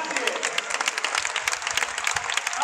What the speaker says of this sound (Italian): L'applauso di compassione del Granillo.